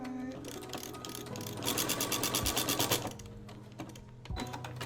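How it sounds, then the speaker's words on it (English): Sewing machine stitching a fabric face mask, running in a fast steady whir of rapid needle strokes for a couple of seconds, with quieter handling of cloth and mechanism clicks before and after, close and alone. "just gotta finish sewing this part."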